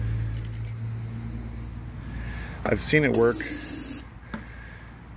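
Short aerosol spray bursts into the spark plug holes and Briggs & Stratton carburetor of a Craftsman Platinum 7.25 lawn mower that won't start, a close hiss lasting about a second, with someone talking around it.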